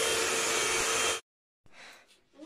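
A household vacuum cleaner with a built-in light whines loudly and steadily for about a second before cutting off abruptly, leaving a brief silence and then quieter room noise.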